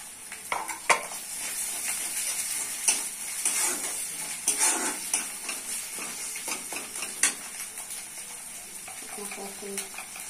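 Ginger-garlic paste hits hot oil with browned onions, sizzling and spitting up close while a spoon scrapes and clinks against the pan in irregular bursts.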